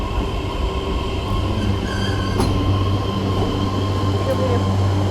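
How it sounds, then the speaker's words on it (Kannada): A small train rumbles steadily nearby at Kashima, Japan, with a low drone and faint metallic squeals, continuous throughout with no voices. "ನೋಡಿ ಟ್ರೈನ್ ಬಂತು."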